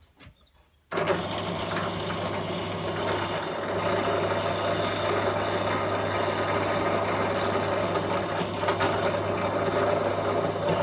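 A power drill with a brad point bit boring through wood starts abruptly after a near-silent second, then runs as a steady, loud motor whine with a constant hum for the rest of the stretch, without talk.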